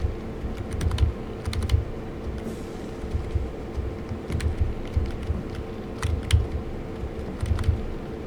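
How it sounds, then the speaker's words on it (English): Computer keyboard keys clatter while Alone in the Dark is played, bursts of quick taps and clicks at close range with short pauses between them, nothing else prominent. "Me hitting the, keyboard."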